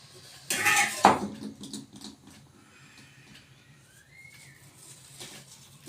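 A knife cuts into a warm, freshly baked homemade cake on a plate, giving a short burst of scraping and clinking against the plate at the start, then quieter faint handling sounds.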